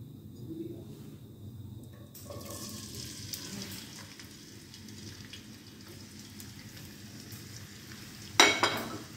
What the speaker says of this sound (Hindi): जैसे ही ऑयल गर्म होगा हम इसमें ये चॉप की हुई प्याज डाल देंगे।